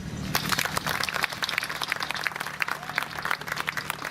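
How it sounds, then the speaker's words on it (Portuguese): Applause from a carnival opening crowd for a minister, many overlapping claps with a faint low hum beneath, moderately loud and continuous throughout. "un aplauso más fuerte para la ministra"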